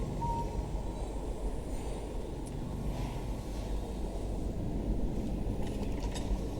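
A train rolling along in the video game Dishonored, a continuous low rumble with rattling, steady throughout and fairly loud, with no talk over it.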